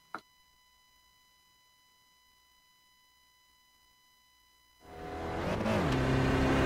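SRF race car in a racing sim at Brands Hatch: a faint tone and click at first, then the engine fires and revs up loudly, rising and settling in pitch as the car pulls away.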